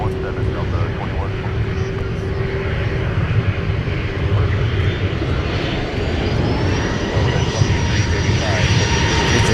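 A jet airliner on the runway at MSP airport rumbles with a steady, loud engine roar that holds throughout, while people talk over it.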